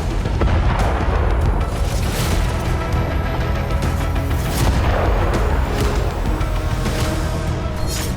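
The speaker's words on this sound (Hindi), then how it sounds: "तभी एक धमाका होता है और वाहन तबाह हो जाता है।" A NATO military vehicle carrying Ukrainian troops blows up on a Russian landmine near Kupiansk, heavy booming blasts and rumbling bursts recurring loudly across the stretch with no voices.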